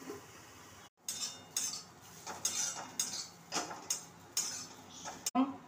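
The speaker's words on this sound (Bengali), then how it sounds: "এরপর নেড়ে চেড়ে আমি এখন ঢাকা দিয়ে দিব।" Ridge gourd peels with salt and turmeric are stirred in a pan, making a regular series of close metallic scrapes and clinks, roughly one every half second, with a brief silent gap near the start.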